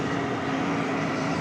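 A UPS cargo plane's jet engine spools up at DFW Airport next door, a continuous broadband roar heard from a distance, steady throughout the short stretch with no talking.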